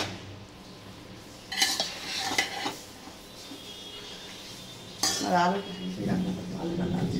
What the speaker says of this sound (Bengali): এবার একটু নাড়িয়ে চাড়িয়ে দেবো।